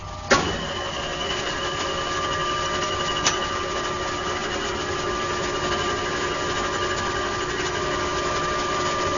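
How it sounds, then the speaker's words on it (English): A metal spinning lathe turns a lubricated copper sphere, producing a steady mechanical whir with sustained tonal hum, preceded by a sharp click at startup and a brief knock a few seconds later, continuous and close. "he's going to turn this machine on, lube that piece up, and spin a copper sphere for us."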